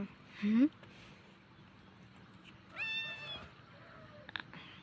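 A cat meows twice indoors, a short rising call at the start and a longer, brighter one near the middle, with faint household noise between and a small clatter near the end.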